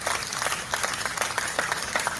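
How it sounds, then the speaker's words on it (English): An audience gives a round of applause, a dense, steady patter of many hands clapping at moderate level without pause, heard alone without talk. "Ladies and gentlemen, round of applause to everybody in here."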